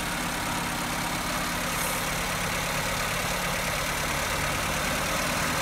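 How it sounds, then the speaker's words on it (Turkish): Car engine idling steadily while the idle air control valve is turned with a screwdriver, a constant loud low rumble with a dense broadband drone, close up and unbroken, without talk. "saatin ters yönüne çevirdiğim zaman rölanti arttı. Saat yönüne çevirdiğim zaman rölanti düşüyor"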